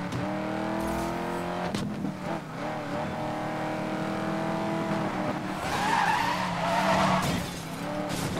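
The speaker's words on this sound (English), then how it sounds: "Listen to that engine." A Dodge Challenger engine in the racing game Need for Speed: Most Wanted, with a loud, steady, buzzy engine drone that rises and shifts pitch, then tire squeal and skidding as the car corners.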